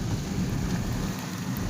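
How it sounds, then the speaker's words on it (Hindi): Steady rain pours down outdoors in a continuous, dense hiss with a low rumbling undertone, holding at an even level throughout with no voices. "छिक्का बारिश हो रही है भाई,"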